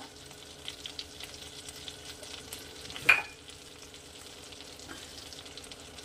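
Finely chopped onions dropped into hot oil, a single loud sizzling splash midway over a low steady frying hiss, followed by faint stirring; no voices.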